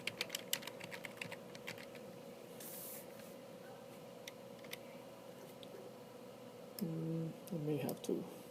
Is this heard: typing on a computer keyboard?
yes